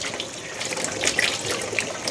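Tap water runs steadily into a sink while hands are washed of flour during dumpling making in a home kitchen, a continuous close splashing hiss with small bursts of spatter.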